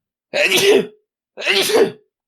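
Two loud sneezes about a second apart, close by, with silence between them.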